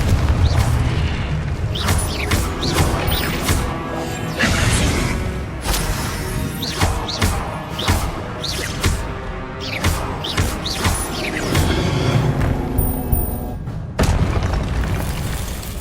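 Confringo blasting-spell explosions in the Hogwarts Legacy video game, loud repeated booms and crashing bursts in rapid irregular succession over a dense, continuous game soundscape.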